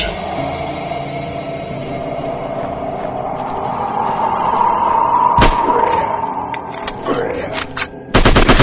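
Gunfire in the SCP Pipe Head horror game on Android: a sharp shot bursts out near the middle, followed by a heavier close burst at the end, all over a steady droning game soundscape.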